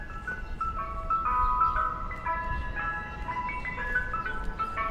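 An ice cream truck plays its tinkling chime melody out on a neighbourhood street, the tune clear and steady over low traffic rumble, with no voices.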